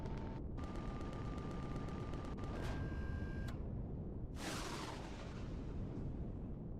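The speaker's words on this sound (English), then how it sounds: "we can use the Gatling guns" Gatling gun fire in Empyrion Galactic Survival, a continuous rapid mechanical rattle with whining tones over a constant rumbling game soundscape, followed by a loud whooshing burst, no voices.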